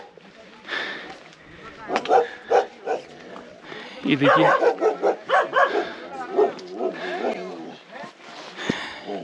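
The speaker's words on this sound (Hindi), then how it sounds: "और बड़े हैवी भोटिया कुत्ते यहाँ से भौंक रहे हैं अभी" Large heavy Bhotia dogs bark at the Panar campsite on a high mountain meadow along the Rudranath trek in Uttarakhand, giving short intermittent barks amid close speech and outdoor bustle.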